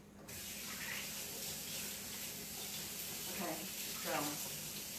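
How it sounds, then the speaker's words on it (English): Tap water runs steadily into a kitchen sink as hands are rinsed while cooking sweet potatoes, a continuous close hiss with a brief spoken word near the start. "I'm going to rinse off my hands really quick"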